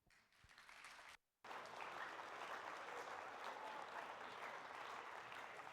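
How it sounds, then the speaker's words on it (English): A high school audience of ninth graders applauds at an attorney general's outreach session: a brief burst of clapping, a short gap, then sustained dense applause filling the room at an even, fairly loud level. "Give him a round of applause."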